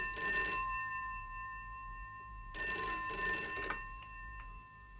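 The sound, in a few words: telephone ringing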